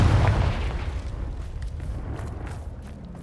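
Confringo fire spell exploding in Hogwarts Legacy, a single heavy boom at the onset followed by a rumbling decay and crackling debris, loud and alone.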